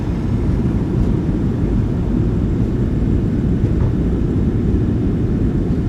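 Simulated airliner rolling out after landing at Liverpool in Microsoft Flight Simulator 2024, thrust reversers deployed, heard as a steady, loud, low engine roar that stays even throughout with no voices.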